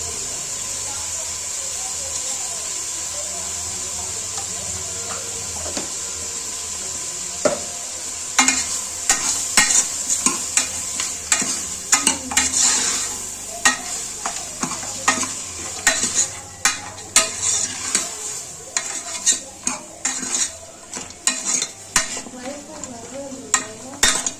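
Mutton fries in a pot while a spoon scrapes and clanks against the metal, a steady sizzle first and then repeated sharp stirring knocks, close and loud.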